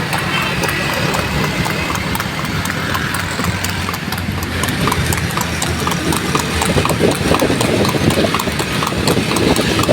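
Horse hooves clip-clop steadily along a busy Lahore street, a continuous rhythmic clatter over loud traffic and engine noise, with a faint voice in the background.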